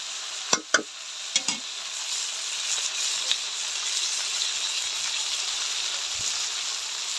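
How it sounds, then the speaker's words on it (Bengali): Vegetables frying in a pan for a river-fish curry with spinach, a few sharp metallic stirring clanks at the start, then a steady close sizzle continuing alone. "সবজিগুলো ভাজা হয়ে গেছে, আর মশলাগুলো দিয়ে দিব।"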